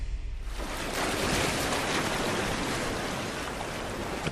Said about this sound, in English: The crash of water as the buffalo retreat takes on a new significance to her